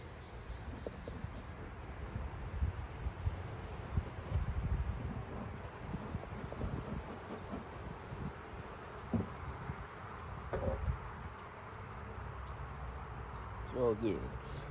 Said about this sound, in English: I hear you. There's a lot of bees in there.